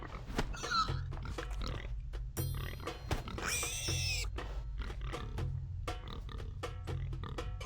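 Pigs in RuneScape 3 grunting and oinking in short repeated bursts, several close snorts and squeals overlapping with brief gaps between them, loud and alone with no talking.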